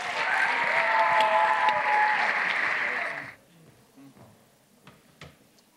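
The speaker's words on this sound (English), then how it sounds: "Give him a round of applause" A school audience applauds seminarian Josh French, loud, full clapping that holds for about three seconds, then cuts off, leaving quiet room noise and a few faint knocks.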